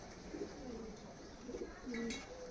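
Tumbler pigeons coo softly in a loft, with several low warbling calls spread across a faint, noisy background.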